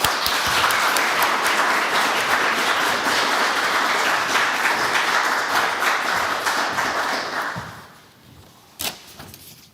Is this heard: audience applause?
yes